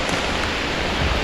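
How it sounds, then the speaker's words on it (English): Heavy rain pouring down in a dark, dense Ugandan jungle under storm clouds, a steady loud hiss of water on leaves that stays constant throughout, with no voices. "It's now pouring with rain."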